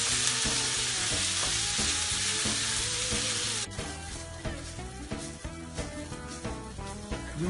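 Tuna pizza filling frying in olive oil in a pan, a loud dense sizzle that drops to a softer crackle with stirring partway through.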